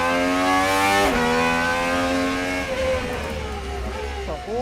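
A Gordon Murray GMA T.50s V12 car driving on a track gives a loud, high-pitched engine howl. The pitch rises, drops sharply at a shift, then climbs again before easing off, heard up close.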